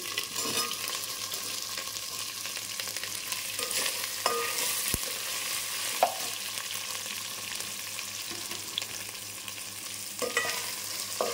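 Drumstick pieces and curry leaves sizzle in hot tempering oil for Andhra-style sambar, a steady low crackle with occasional stirring clinks and scrapes, no voices.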